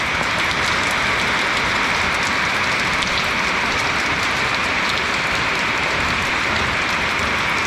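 Heavy rain pours down hard and loud on a fishing raft at sea, a dense, unbroken hiss with no pauses and no voices.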